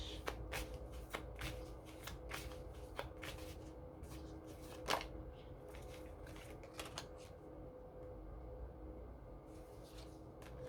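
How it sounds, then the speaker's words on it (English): Tarot cards being shuffled close by, a steady run of crisp riffling and card slaps, with one sharper snap midway and a lull toward the end. "that would mean just shuffle it the right way, Vanessa."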